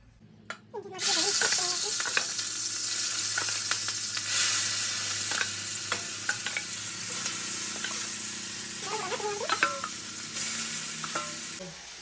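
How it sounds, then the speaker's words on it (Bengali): Giant river prawns fry in hot oil in a wok, cooked village style, making a loud, steady sizzle and hiss throughout, with intermittent clinks and scrapes of stirring. "এখন আমি এতে তেল দিয়ে মাছগুলো ভেজে নেবো ফার্স্টে"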